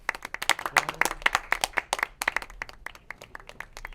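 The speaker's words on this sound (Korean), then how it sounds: "다 같이 박수." A group in an office gives a brisk round of hand claps at a year-end gathering, with many overlapping claps that are close and fairly loud for a few seconds.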